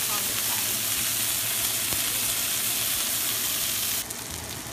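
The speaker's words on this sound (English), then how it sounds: "Check out that beautiful sear on the steak" A sirloin steak sears in a hot pan with a loud, steady, dense sizzle that runs unbroken and then drops in level near the end.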